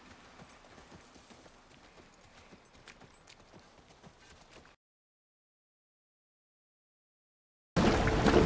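Horse hooves in a video game clip-clop faintly and steadily for several seconds, then stop in silence before a sudden loud burst of noise.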